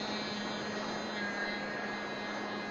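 An E-Flite Bronco RC model plane flies over beach dunes, giving a steady, even motor whine with a faint tonal hum and wind-like hiss that holds throughout.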